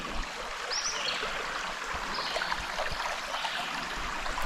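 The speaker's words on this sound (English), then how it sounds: "Like the sound of the water being so close to my tent." Water flows steadily beside a campsite at Pictured Rocks National Lakeshore, a close, continuous rushing hiss with no talking over it.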